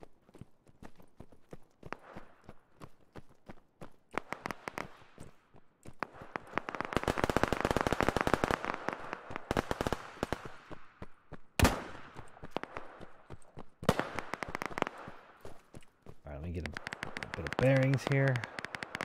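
Rapid gunfire from a Bohemia Interactive shooter, Operation Harsh Doorstep, cracks out in dense bursts of sharp shots, some close and loud, others distant, with a player's voice talking over the fight.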